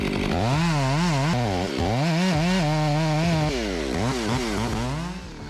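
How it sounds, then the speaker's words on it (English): A powerful chainsaw cuts through dense wood of an ancient pine tree, its engine loud and close, pitch rising and falling continuously as the chain bites and frees up in the log. "With an advanced chainsaw designed to handle ancient pine trees, the saw easily moves through dense wood."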